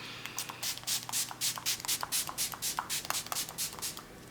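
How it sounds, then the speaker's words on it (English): Rapid bursts of a fine mist spray, roughly a dozen quick pumps in a steady rhythm, close and fairly soft, with no talking. "I think that a setting spray will help."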